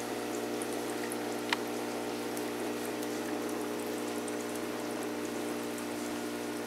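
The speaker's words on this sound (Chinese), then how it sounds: "对，那是有马达在抽水的嘛。 喷射的水流嘛" A foot bath machine's small motor pumps water into jets with a steady low hum and bubbling water hiss, constant and even with one brief click, no voices over it.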